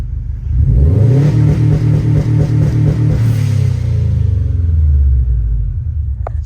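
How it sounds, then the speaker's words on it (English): A 2002 Subaru WRX engine revving up from idle, a deep pulsing rumble that climbs and holds with a throbbing beat, then eases back down near the end; no talking. "It's set, so all you do is literally just rev it up."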